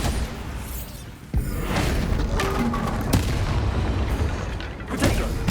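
The Bombarda blasting spell in Hogwarts Legacy lands as a sudden deep boom, followed by a rumbling spell of crackling explosive aftermath and a few further thumps.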